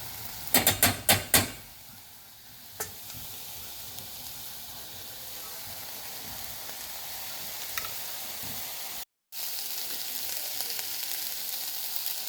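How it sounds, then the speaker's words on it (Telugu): Onions fry with ginger garlic paste in a pan, opening with a quick run of sharp metallic clatters, then a steady close sizzle that carries on with a few faint taps and one brief cut-out. "ఇప్పుడు ఫ్రై అయినాక కొంచెం అల్లం వెల్లిగడ్డ పేస్ట్ వేసుకున్నాం, జింజర్ గార్లిక్ పేస్ట్ వేసుకున్నాం."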